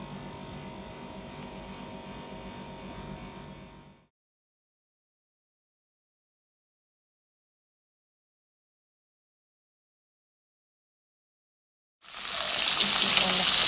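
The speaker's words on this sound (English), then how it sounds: "it's frying." Fish fillet frying in hot vegetable oil in a pot, a steady crackling sizzle that cuts out into silence for several seconds, then returns louder and brighter.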